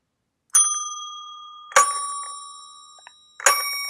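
A small bell is struck three times at slow, uneven intervals, each bright ding ringing out and decaying before the next, close and fairly loud.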